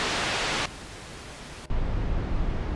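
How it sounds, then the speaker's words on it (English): Synthesized noise shaped into a steam effect, a loud hiss that drops abruptly to a duller, quieter band of noise, then jumps to a harsh, bass-heavy wash, with no voices. "Steam is, effectively, just noise."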